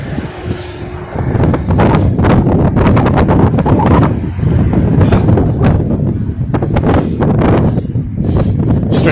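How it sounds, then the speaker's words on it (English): Strong wind buffets the microphone in loud, gusty rumbles that rise and fall continuously. "It's kind of windy out"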